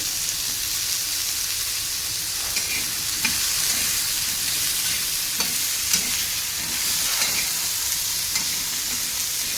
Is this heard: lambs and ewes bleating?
no